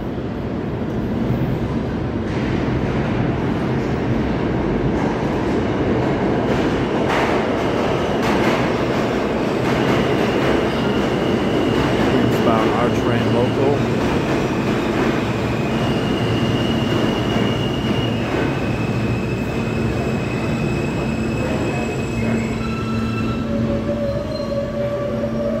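A New York subway train runs on the line toward Brighton Beach and Coney Island with a loud, steady rumble of wheels and car noise. Sustained squealing tones rise and shift throughout, heard from inside the train with no talk.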